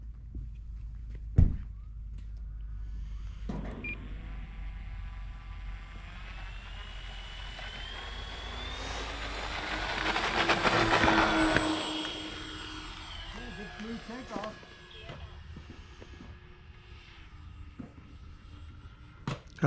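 A Flightline B25 model airplane makes a long scale takeoff: the twin propeller engines drone steadily, swelling louder and closer near the middle before easing off, with a few sharp knocks and people talking nearby.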